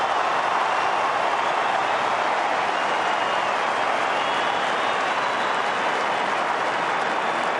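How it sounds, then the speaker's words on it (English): A full-house stadium crowd at an AFL football match, Essendon against West Coast at Etihad Stadium, applauds in a dense, steady roar of clapping that stays loud and unbroken throughout. "The fans stand and applaud."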